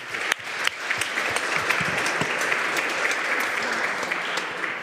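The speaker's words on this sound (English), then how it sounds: "please give them one more, your most enthusiastic yet round of applause for Erika, Caroline, Marco, and Esteban." Sustained applause from a crowd, dense steady clapping throughout with a few sharper claps standing out near the start.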